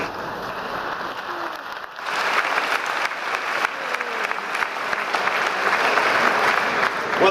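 Applause from a commencement crowd following the address, starting moderate and swelling after about two seconds into a full, steady wash of clapping that continues to the end.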